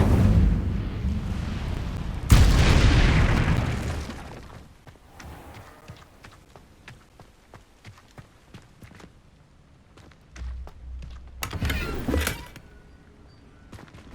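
Incendio fire spell cast in the video game Hogwarts Legacy, a loud burst of whooshing flame that fades over a couple of seconds, followed by quieter crackles and clicks, then a second shorter fiery burst near the end.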